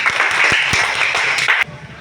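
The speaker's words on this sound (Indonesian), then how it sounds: "Tepuk tangan untuk Putri Jena." A junior high school class in Indonesia claps in brisk, close applause, a lively patter of many hands that cuts off abruptly just before the end.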